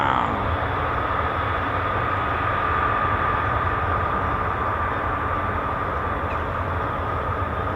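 An F-35B stealth fighter of 617 Squadron at an RAF air base gives a continuous loud, broad jet roar that holds steady throughout with no break.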